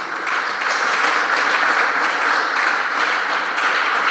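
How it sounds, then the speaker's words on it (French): A church congregation claps steadily for several seconds, a dense, even wash of applause with no voices rising above it. "Applaudissez le Seigneur de gloire."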